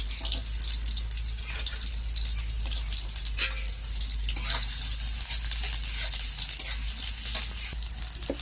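Onions sizzle in hot oil for a hilsa fish curry, a steady close crackle and hiss with small spits and pops running throughout, without talk.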